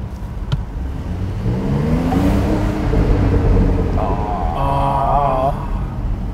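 A Porsche 911 Turbo S Cabriolet (Type 992) engine revs up as the driver briefly presses the throttle, a smooth rising drone heard from inside the open-top car, with a faint voice speaking near the end.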